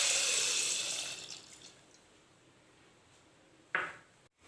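Rice being washed in water for dahi pakhala, a splashy pour and rinse that fades to quiet, then a short sharp slosh near the end.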